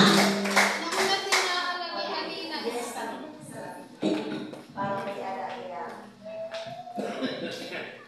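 A church congregation claps in praise, bursts of rhythmic hand clapping mixed with loud, overlapping talk and a sung or sustained voice, close and lively throughout.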